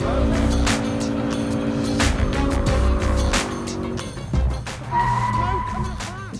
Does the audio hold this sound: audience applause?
no